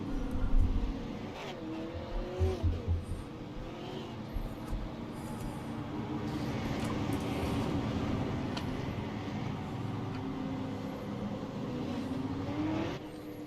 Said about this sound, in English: looking as they cross the start-finish line